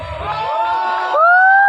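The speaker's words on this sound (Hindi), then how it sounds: "एक बार जोरदार तालियां हो जाए" Crowd at a movie trailer launch in a Mumbai cinema cheering and whooping. Sustained voiced shouts swell louder toward the end, over a brief opening burst of low rumble.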